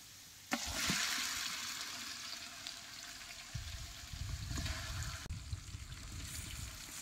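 Chicken dropped into hot oil with fried onions, a loud sudden burst of sizzling that settles into a steady crackling fry, with stirring knocks later, close by and without talk.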